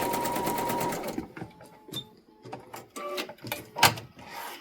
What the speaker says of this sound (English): So we sew it together along this edge.